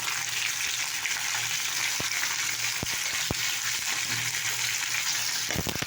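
Chili and panch phoron spices frying in hot oil, a steady loud sizzle throughout with a few sharp pops and clinks of a utensil.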